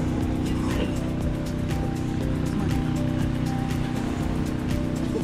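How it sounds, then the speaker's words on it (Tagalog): A boat motor drones steadily up close near Puerto Princesa, Palawan, a constant low engine hum with water splashing and rushing around it, no talking. "I-start na yung bangka, oh."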